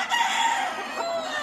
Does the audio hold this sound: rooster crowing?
yes